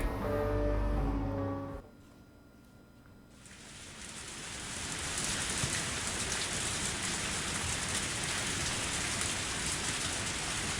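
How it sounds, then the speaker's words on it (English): Rain in the video game Higurashi, opening with a brief musical tone that cuts off, then a short lull before a dense, steady hiss of heavy rain swells in and continues evenly to the end. "raindrops were striking the ground non-stop"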